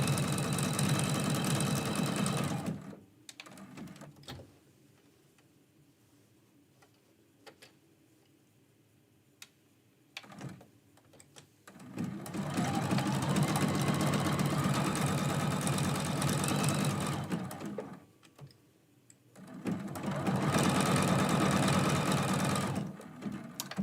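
A sewing machine back-stitching Christmas quilt-as-you-go blocks runs in two long, steady bursts of rapid needle chatter, separated by a quieter pause with small ticks and handling sounds, close and fairly loud.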